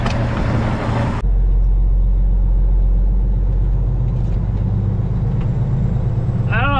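Semi truck hauling a load from Pittsburgh, driving down the road: a steady low engine rumble and road noise from inside the cab, with a brief burst of louder noise at the start.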